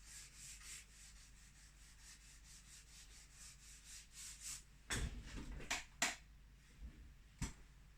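A finger rubs back and forth across artwork to blend it, soft close rhythmic rubbing strokes, very quiet, with a few sharper taps and brushes toward the end.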